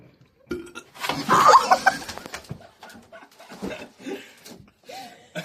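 A person lets out a loud, drawn-out burp, followed by a few shorter gulping sounds and quiet throat noises close to the microphone, with no speech.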